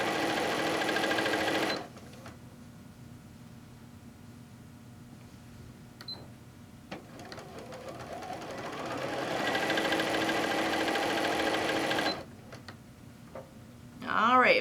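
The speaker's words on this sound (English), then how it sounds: "we're going to sew all the way down" A sewing machine runs a pillowcase seam in two close, steady bursts of fast stitching, with a quieter stretch of soft handling noise and some talking between them.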